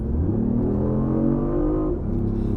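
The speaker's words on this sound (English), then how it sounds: "Let's put it into sport mode, as I've just done, and listen to the fake engine noise as we go." BMW i8 hybrid sports car in sport mode, its synthetic engine note swelling and rising in pitch as the car accelerates, a steady close drone from start to finish with no talking.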